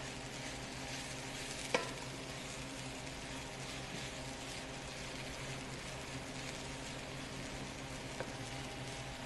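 Vegan fried rice fries in a pan with a steady, soft sizzle and crackle throughout, broken by a couple of faint clinks of stirring.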